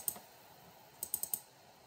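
A computer mouse clicks at a desk while working in HyperMesh 2023: one sharp click, a pause, then a quick burst of four crisp clicks, close and alone in a quiet room.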